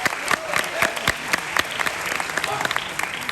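An audience applauds during the Manhattan Borough President's State of the Borough speech at Hunter College: a crisp burst of separate, close hand claps in an irregular rhythm, with a voice faintly underneath.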